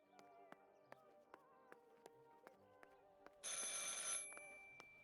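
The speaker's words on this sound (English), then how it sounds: "I should pick up the phone but remain silent." Telephone ringing in the game Martha Is Dead, a bright bell ring lasting under a second over a quiet tonal background with regular soft ticks.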